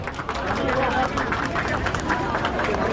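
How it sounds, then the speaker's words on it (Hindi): Loud applause from the crowd at a local Independence Day celebration in Yamuna Vihar honouring a child, sustained rapid clapping throughout with light background chatter underneath. "जोरदार तालियां।"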